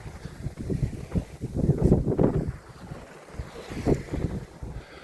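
Sailboat SV Iola under way in 11 knots of wind with two reefs in, making about 4.5 knots: steady wind rush and water swash against the hull, with gusty swells of noise and no talk.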